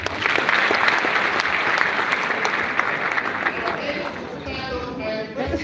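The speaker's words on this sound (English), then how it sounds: "Give yourselves a big round of applause." A crowd at a testimony gathering gives itself a big round of applause, dense clapping that stays steady and then gradually thins out, with some voices mixed in near the end.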